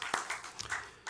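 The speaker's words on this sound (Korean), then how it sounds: "하나님께 영광의 박수 올려드리겠습니다." A church congregation claps during a Korean Lenten worship service, a brief, faint burst of several quick handclaps heard from a distance.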